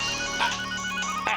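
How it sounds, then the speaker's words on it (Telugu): A phone ringtone plays a short electronic melody, clear tonal notes rising in brief phrases over about a second and a half, fairly quiet and alone without talk. "ఫోన్ రింగ్ అయింది"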